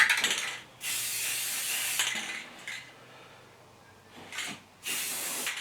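Clear coat sprayed onto stained kitchen cabinets in a series of loud, close hissing bursts with short pauses between, plus faint clinks of handling.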